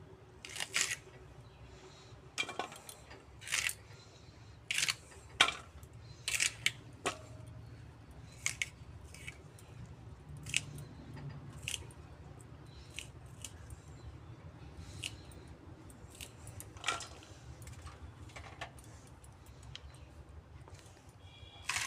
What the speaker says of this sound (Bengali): পেঁয়াজগুলো কেটে নিচ্ছি পেঁয়াজ কালিগুলোকে এরকম বড় বড় সাইজের কেটে নেবো